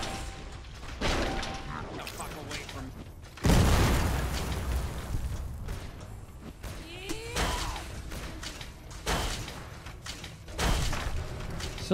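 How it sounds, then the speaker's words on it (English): Explosions in the video game Fallout: New Vegas, several loud booming bursts rising out of a rumbling game soundscape, the biggest near the start and more at intervals. "Who the fuck's shooting explosions?"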